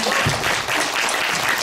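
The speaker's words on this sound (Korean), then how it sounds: "박수로 축하 한번 해주세요." Audience applause at a special lecture gathering in Yongsan: a dense, steady wash of many hands clapping together, fairly close and even in loudness, with no voices over it.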